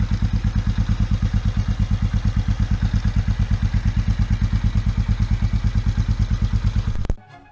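A 35-year-old motorcycle engine idles close by with a steady, rapid, even thumping beat, loud and unbroken for about seven seconds before it abruptly cuts off.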